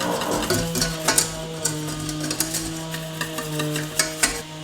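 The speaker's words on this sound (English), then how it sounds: "you want to give that a good whisk through. I'm using a whisk now." Flour and butter roux being whisked in a pan, a steady scraping stir with light clinks of the whisk against the metal, close and moderately loud over a low kitchen hum.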